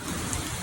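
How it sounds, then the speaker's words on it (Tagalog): Heavy rain pours down steadily in a dense, even hiss, loud and close, with no voices. "Ganito kalakas ang ulan."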